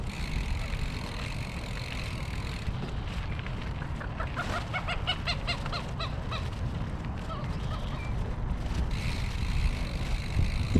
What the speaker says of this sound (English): All the ducks, holy cow.